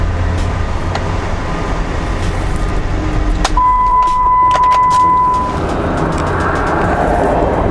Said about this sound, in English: Yeah, it sounds okay, the engine.